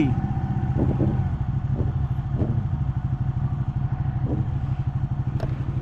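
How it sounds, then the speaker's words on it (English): A superbike idles and burbles on a city street, its engine throbbing in a quick, steady low pulse with a few sharper clattering blips, fairly close and without talk. "it is very rare that I hear my own bike sound. And really, what a sound"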